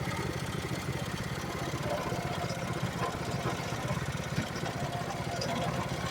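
A snowblower engine runs steadily at a constant mid-pitched drone, the machine's drive too weak to push through snow; the hum holds even and close without pauses.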